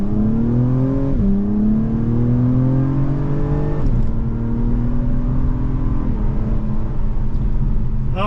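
A 2023 Acura TLX Type S accelerates hard, its engine note climbing steadily through the gears with brief dips at each shift, loud and close from inside the cabin.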